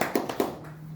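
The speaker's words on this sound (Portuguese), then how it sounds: "Você pode aplaudir Jesus por isso?" A church audience applauding during a sermon gives a brief burst of scattered hand claps that quickly fades to quiet.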